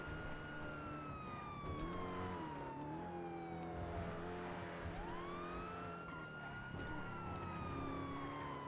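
A police siren in the video game NoPixel 4.0 wails, its pitch sweeping slowly down and back up over a steady engine rumble, with no talking.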